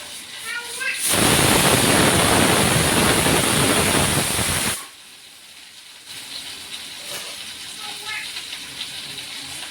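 Bitter gourd hits hot oil in a pan and bursts into a loud, dense sizzle lasting about four seconds, then drops abruptly to a softer crackle, with a voice talking briefly before and after.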